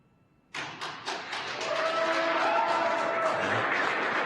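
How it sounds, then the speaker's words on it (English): Applause erupts suddenly in mission control after the SpaceX Crew 1 Dragon capsule Resilience splashes down, quickly swelling into steady, sustained clapping from a roomful of people. "I don't know if you can hear the applause"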